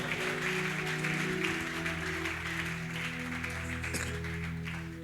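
A church congregation at a seminar applauds steadily, a dense wash of clapping that holds throughout while sustained organ-like tones play underneath.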